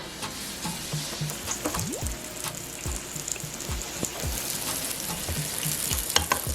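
Bean cake fritter batter (akara) crackles and sizzles in hot oil, a dense near frying hiss dotted with sharp pops and scoops of batter dropping in, with no talk.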